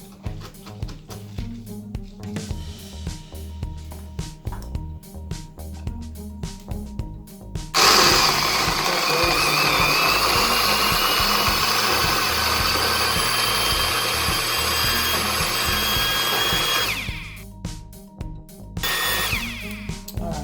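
Blender whirring through a strawberry daiquiri with sugar and ice, starting mid-clip as a loud, steady grinding roar that runs for about nine seconds and then stops, with lower mechanical noise before and after.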